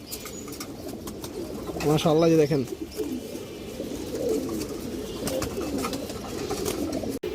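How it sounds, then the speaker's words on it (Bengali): Pigeons of long-road flying breeds cooing in a loft, a short throaty burst standing out near the middle amid steady low bird murmur, with someone talking over it throughout. "এক হাত সাইজের একটা কবুতর দর্শক"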